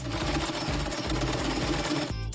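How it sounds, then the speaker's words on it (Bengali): A sewing machine stitching fabric runs steadily with a fast, even mechanical rhythm, close and clear, alone with no talk, stopping abruptly at the end. "এখন চলো এটাকে সেলাই করা যাক।"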